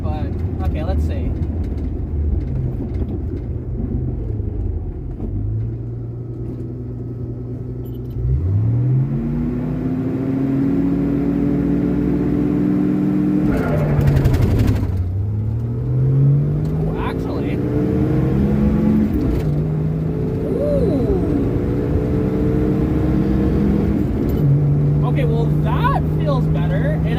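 A Ford Mustang with a freshly cleaned carburetor and suspected loss of power, driven on the road: a loud, steady engine drone that rises in pitch through repeated accelerations and gear changes, heard from inside the car.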